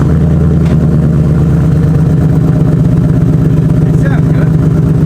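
A 2015-2017 Ford Mustang GT V8 fitted with new MagnaFlow Competition Series or FlowMaster Outlaw axle-back mufflers rumbles with a deep, loud, steady exhaust note close by.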